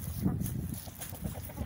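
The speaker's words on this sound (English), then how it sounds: "time to let the chickens out and let them roam free" Chickens being let out to roam free on a small homestead, soft low clucking and murmuring from the flock, faint and close, with a muffled background.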